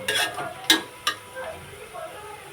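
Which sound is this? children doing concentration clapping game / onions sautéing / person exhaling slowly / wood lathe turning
onions sautéing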